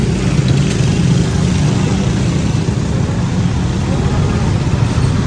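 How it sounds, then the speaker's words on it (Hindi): Road traffic moves through the Bhati Chowk underpass in Lahore as a loud, continuous, low engine rumble that echoes in the enclosed space, with faint talk beneath it. "ये जो ट्रैफिक आ रही है"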